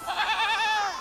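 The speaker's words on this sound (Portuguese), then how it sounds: "Olha, Pedro, que ovelha fofinha, bé." A single close sheep bleat, a wavering nasal cry lasting about a second, loud and clear on its own.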